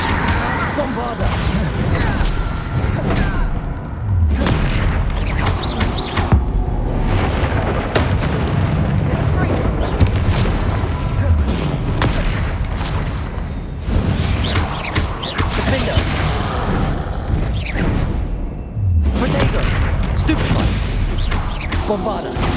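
Bombarda spell blasts in Hogwarts Legacy: loud, dense booms and crashing impacts pile up over continuous battle noise, with repeated explosive hits and a voice speaking at times.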